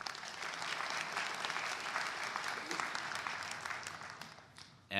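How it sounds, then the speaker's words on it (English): Sustained applause from a conference audience at a NeurIPS 2018 paper session, dense and steady throughout, tapering slightly toward the end. "Let's just give another round of applause to all the spotlight speakers"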